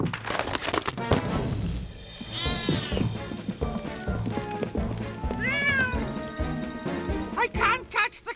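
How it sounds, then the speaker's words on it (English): A cartoon cat meows in a Fireman Sam episode, with several rising, drawn-out meows scattered through a busy scene of crashes, clatter and excited voices talking. "where's the cat gone now?"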